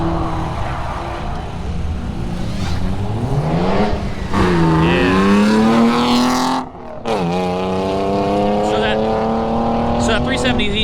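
Drift car, among them a 350Z/370Z and a Fox body, circling the track at an MB Drift Ice Breaker event, its engine rising and falling in revving sweeps with a sharp cut midway, loud throughout under crowd chatter.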